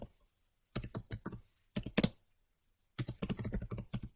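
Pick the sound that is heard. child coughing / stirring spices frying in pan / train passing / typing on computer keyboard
typing on computer keyboard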